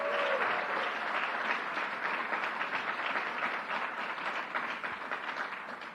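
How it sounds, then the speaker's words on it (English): A large crowd at an LGBTQ+ Pride event marking a decade of marriage equality gives a loud, sustained round of applause that carries steadily throughout, with no talk over it. "Let's give her a big round of applause."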